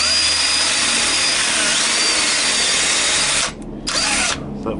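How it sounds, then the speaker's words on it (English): A power drill running in reverse whines continuously at high speed through foam into a Hyundai iLoad seat, close and loud, then briefly stops and restarts before trailing off near the end. "So I'm actually drilling in reverse."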